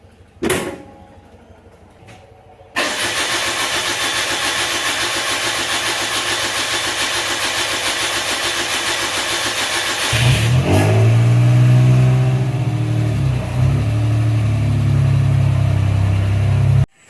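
A Suzuki Mighty Boy engine, left sitting for 50 days, cranks briefly after a few clicks, catches, and idles steadily, then is revved to a louder, deeper rumble before being switched off.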